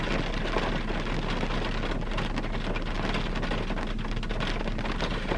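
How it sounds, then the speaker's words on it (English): Heavy rain from a spring thunderstorm pours down in a dense, constant hiss and patter on surfaces, loud and close throughout, with a low rumble underneath. "What a nice summer storm."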